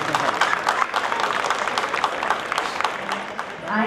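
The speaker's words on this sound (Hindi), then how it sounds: "जोरदार तालियां।" Crowd at an army mela clapping after a dog demonstration, a moderately loud, textured patter of many hands with a voice over it.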